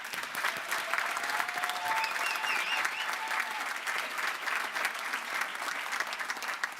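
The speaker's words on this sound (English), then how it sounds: "Let's give them a big round of applause." A large audience at a university graduation ceremony claps for the graduates in continuous, even applause, moderately distant, holding steady for the whole stretch with no talking over it.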